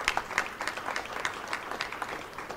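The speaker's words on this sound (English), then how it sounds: "That you can applaud." An audience applauds at the close of a workshop on an Africa strategy for cities, held in Accra: steady clapping from many hands filling the whole stretch, moderately loud and with no talk over it.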